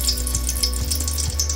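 Whole spices, bay leaf and cinnamon sizzle in hot oil in a cooking pot for Hyderabadi chicken dum biryani, a steady crackling hiss with light pops throughout and a low hum underneath.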